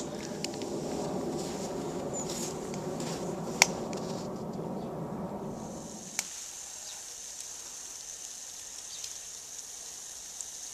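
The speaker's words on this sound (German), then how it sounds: "das Wasserchen kocht schon wieder" Water boiling in a pot on a small ALB wood gasifier camping stove, with a dense bubbling rumble that stops abruptly partway through and leaves a faint hiss and occasional ticks, close and without speech.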